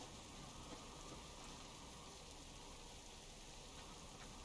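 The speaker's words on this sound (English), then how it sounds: "Raining again, of course." Rain falls in the survival video game Subsistence as a steady, even hiss of drops on surfaces that stays constant throughout with no other sounds.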